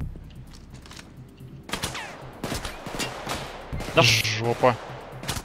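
Police gunfire in Payday 2: scattered shots building into heavier bursts toward the end, moderately loud, mixed with a brief spoken remark and other game noise.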